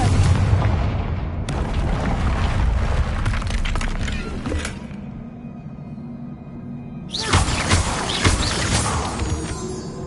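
A Confringo fire spell blasts in the Hogwarts Legacy video game, a loud booming explosion with a burst of crackling debris, a lull of lower rumble, then another strong roaring burst near the end.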